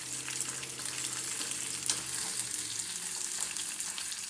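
Ribeye steak sizzles and crackles steadily on a grill, a close, continuous frying hiss with small pops and no talk.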